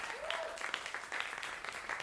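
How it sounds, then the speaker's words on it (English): A studio audience at a vocal department industry showcase gives a round of applause, a steady, moderately distant wash of clapping over two seconds with a brief whistle-like tone near the start. "Everyone please give it a round of applause for Maxwell."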